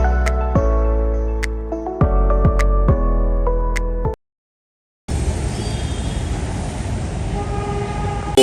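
The Viramgam to Ahmedabad intercity express sounds a series of loud tonal horn blasts, four or so in quick succession, then after a brief silence a steady rushing rumble of the moving train follows.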